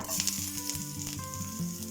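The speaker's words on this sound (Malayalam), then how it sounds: "നമ്മുടെ കടുക് പൊട്ടിയിട്ടാ ഇതിലേക്ക് നമുക്ക് കറിവേപ്പില" Curry leaves sizzling in hot oil after mustard seeds have popped, a close, steady frying hiss with small crackles and no voices.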